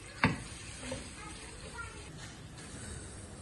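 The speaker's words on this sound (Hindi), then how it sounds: "अब मैंने कढ़ाई में ऑयल शामिल किया है, इसमें 2 अदद प्याज शामिल कर रहा हूँ।" Two onions fry in oil in a kadai: a sharp clatter opens, then a soft, even sizzle carries on quietly in the background.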